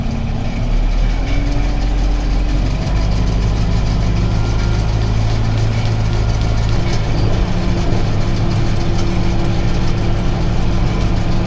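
A cheap used round baler runs off a tractor's PTO while picking up hay. A loud, continuous low engine drone is layered with steady mechanical humming and stays constant throughout.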